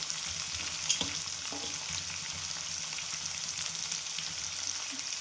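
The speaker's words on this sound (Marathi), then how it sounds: "शिमला मिरची, गाजर सर्व एकत्रित टाकून घेऊन भाजून घेते." Capsicum and carrot frying together in a pan over high heat, a steady, moderately quiet sizzle with a few soft stirring knocks and no voices.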